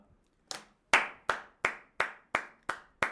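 A single person claps hands slowly and evenly, seven or eight crisp, close claps with short gaps between them, heard during a Hindi GST amendments lecture for CA Inter students, with no talk over them.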